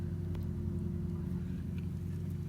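A Tecumseh lawn mower engine fitted with a cheap aftermarket Chinese carburetor idles steadily nearby, a low, even mechanical hum with no revving.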